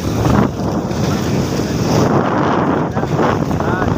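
Small fishing boat (palakaya) racing fast on open sea off Tiwi, Albay, with a loud continuous engine drone, heavy wind buffeting the microphone and rushing water, steady and close throughout.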